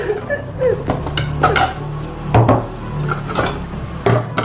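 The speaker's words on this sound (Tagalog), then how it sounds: "Eto na yung mga gagamitin natin pinggan!" Ceramic plates clattering and knocking together in a home kitchen, several sharp clinks and scrapes spread unevenly across the moment, close and moderately loud, with no talking.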